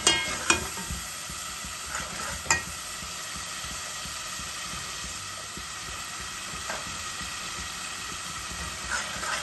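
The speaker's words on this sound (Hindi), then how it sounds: "मसाला बहुत अच्छे से भून चुका है" Masala for chickpea curry fries in a pan with a faint, continuous sizzle, broken by a couple of sharp clinks of a spoon against the pan near the start.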